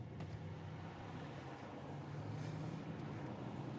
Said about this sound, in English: I'm driving a Honda CRV 2015.